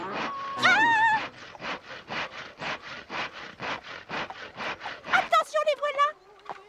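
Wood being sawn in a French children's cartoon: a steady run of about fourteen rasping strokes in a quick back-and-forth rhythm, close and fairly loud, with voices speaking before and after.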